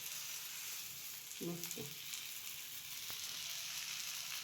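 Thalipeeth, a thin flatbread with fenugreek, frying in oil on a griddle, giving a steady broad sizzle throughout with a few faint clinks and a brief word spoken partway.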